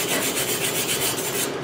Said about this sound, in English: let's hit it with the wire brush.